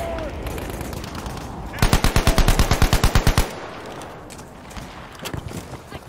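Fast automatic bursts from the RIBEYROLLES rifle in Battlefield V, a loud rattle of around fifteen evenly spaced shots lasting under two seconds, between quieter game ambience with faint scattered sounds.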